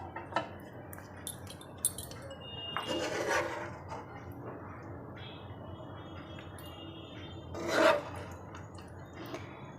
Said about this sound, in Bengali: এবার ঢাকনাটা তুলে আমি একটা বাটিতে সার্ভ করে নেব।